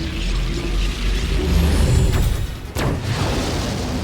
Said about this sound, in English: Main cannon! Fire!